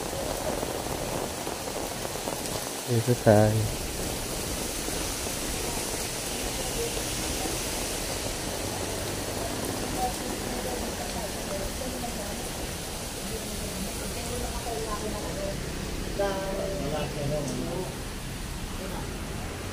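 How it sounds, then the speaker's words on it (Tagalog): Steady rain pours down outdoors at Manila Zoo, a continuous broadband hiss of drops on surfaces, with a brief thump early on and a person speaking quietly beneath it. "Inabot po tayo ng ulan."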